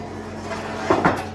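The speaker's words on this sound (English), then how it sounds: "First, we put the door behind the oven" A wood-fired oven door is lifted off and set down behind the oven, giving two brief knocking thuds close by near the end after a stretch of low room hum.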